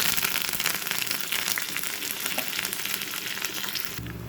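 Curry leaves, garlic and cumin sizzle steadily in hot oil for a tempering, a dense, continuous crackle with no voices.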